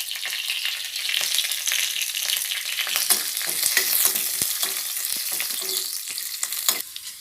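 Neem leaves, cumin and finely chopped small onions sizzle and crackle steadily in a hot pan, with occasional stirring scrapes.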